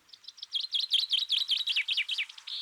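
A chaffinch singing close and clear, a rapid run of bright, repeated chirping notes that speeds into a descending flourish and ends with a final burst, with no voices or other sounds.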